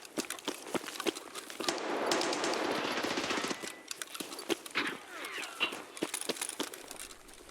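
Rapid gunfire in a raid video game, including a bolt action rifle, sounding as quiet sharp cracks in bursts with a sustained noisy stretch, a faint and somewhat distant mix.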